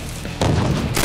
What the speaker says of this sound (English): Blue, cover fire! Fire in the hole